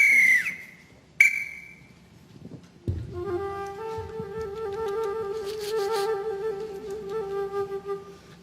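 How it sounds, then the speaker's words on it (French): A referee's whistle at an improv match, the 2017 national final, gives two sharp blasts, the first long and the second short, before a brief murmur and then a sustained musical passage that carries through to the end. "Sur le sifflet, Christian."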